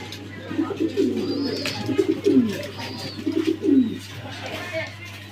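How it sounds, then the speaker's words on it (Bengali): A pair of German Beauty pigeons coo in repeated low, throaty bursts, close and clear over a steady background hum, with a faint voice at times. "বিউটি কবুতর, জার্মানি বিউটি কবুতর।"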